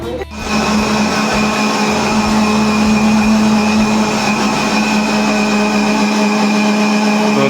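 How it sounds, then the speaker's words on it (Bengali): A kitchen mixer grinder grinding thankuni (Centella) leaves into a paste, starting abruptly and then running loud and continuous with a steady droning whine for several seconds. "দেখো এখানে এখন থানকুনি বাটা চলছে"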